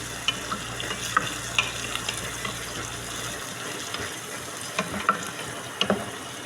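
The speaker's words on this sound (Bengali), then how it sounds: "এখন পেঁয়াজ, রসুন, কাঁচামরিচ কেটে রাখছিলাম ওগুলি দিয়ে দিলাম" Onion, garlic and green chili sizzle and crackle steadily in hot oil in a pot, with occasional clinks of a stirring utensil over the continuous frying hiss.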